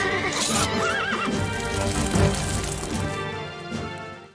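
Horses neigh and whinny loudly in the Stronghold Crusader video game, with galloping clip-clop hooves and battle noise running beneath, the calls close and repeated across the clip.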